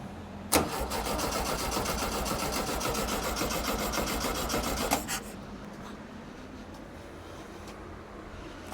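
An Empi IMP dune buggy engine, pulled from a barn, cranks with a rapid buzzing rasp for about four seconds, then stops abruptly and leaves a low, quiet background.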